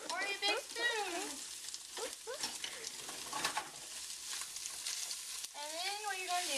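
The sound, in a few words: sausage sizzling while frying in a pan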